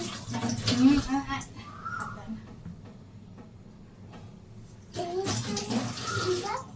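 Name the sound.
tap water running for washing hands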